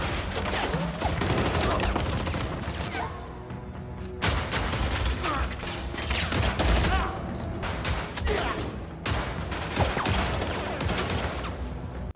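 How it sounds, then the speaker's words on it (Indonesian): Dense film shootout between South and North Korean agents: loud, rapid gunfire volleys in sustained bursts with brief gaps, a chaotic barrage of shots and impacts throughout. "Baku tembak antara agen Korsel dan Korut tak bisa dielakkan."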